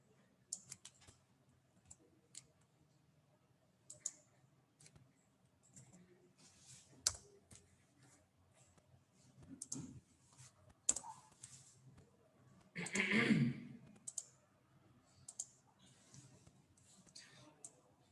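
Scattered clicks and taps of typing on a computer keyboard, quiet and irregular, with a short louder cluster partway through, running under a voice speaking.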